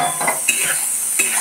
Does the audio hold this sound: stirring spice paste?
yes